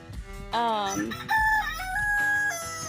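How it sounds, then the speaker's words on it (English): Several roosters crow nearby, their drawn-out calls overlapping one after another, loud and hoarse against a faint farmyard background. "Dang roosters."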